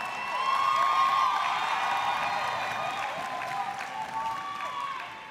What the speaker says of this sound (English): Cheer for your graduates.